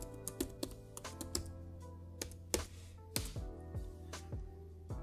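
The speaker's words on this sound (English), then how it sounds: "I'll go back and type sudo evil limiter and I'll type in the password" A computer keyboard being typed on as a sudo command and a password are entered, giving quiet, uneven keystrokes with a few sharper clacks and no voice.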